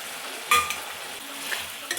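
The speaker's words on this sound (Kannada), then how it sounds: "ಕ್ಯಾಪ್ಸಿಕಮು ಮತ್ತು ಕರ್ಬೇವಿನ ಸೊಪ್ಪು ಹಾಕ್ಕೊಂಡು ಚೆನ್ನಾಗಿ ಮಿಕ್ಸ್ ಮಾಡ್ಕೊಬೇಕು." Capsicum and curry leaves being stirred into spicy chicken in a hot pan, a steady sizzle with a few scraping strokes of a spoon against the pan, close and moderately loud, no talking.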